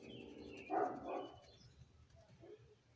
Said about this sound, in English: Sounds like my dogs are out.